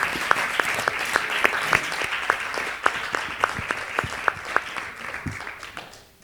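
Audience applause closing a round-table panel on equality, diversity and inclusion in audiovisual media, steady dense clapping with scattered sharper claps, fairly close, fading toward the end.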